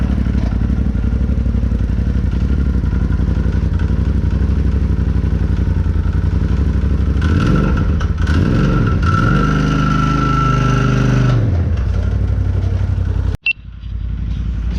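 An off-road vehicle with a freshly repaired clutch idles loudly and steadily, then revs and pulls away, its engine note rising and falling before a sharp knock near the end.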